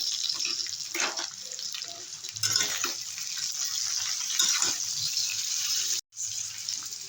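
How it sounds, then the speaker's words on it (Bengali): Water pours into a cooking pan holding vegetables and spices for a broccoli and bean curry, making a steady close rushing splash that breaks off briefly near the end. "সামান্য একটু জল দিয়ে দেবো"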